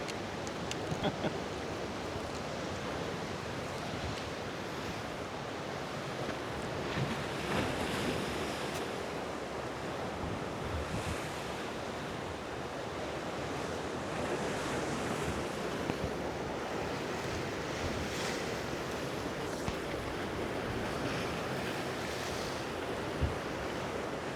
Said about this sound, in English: So we have a few smaller waves